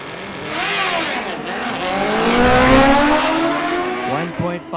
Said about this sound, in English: Pair of bikes coming your way.